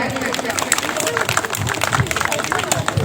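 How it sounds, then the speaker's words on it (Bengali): A crowd applauds at a community fair marking Eid and Bengali New Year, with dense, steady clapping mixed with murmuring voices, close and continuous. "সবাই একবার হাততালি দেবেন"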